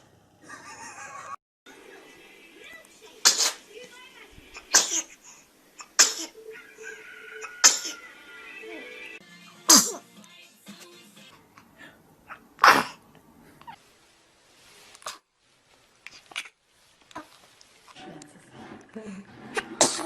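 Several babies sneeze in turn, a series of sharp, sudden bursts scattered across a quiet background, with people talking softly between them.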